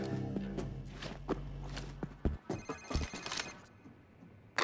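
A telephone ringing inside the heist video game Payday, a sustained electronic ring giving way to quick footsteps and taps from the game.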